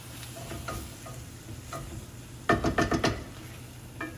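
Flour cooks into a sauce in a pan, giving a soft, steady sizzle under a burst of utensil clatter and scraping midway, close and without talk.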